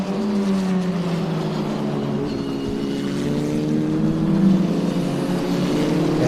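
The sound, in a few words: Formula Regional race cars racing on track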